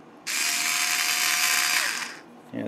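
A powered screwdriver bit spins while loosening tight screws on a server sled, giving a steady whirring drone for about two seconds that then cuts off abruptly.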